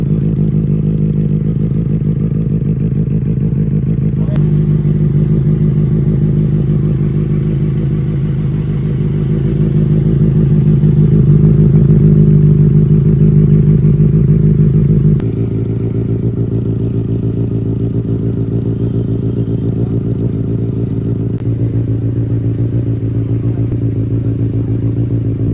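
A Benelli 600i superbike idles and runs steadily during a test drive after servicing, a continuous low engine drone with a slight swell in revs midway, fairly close and without talk.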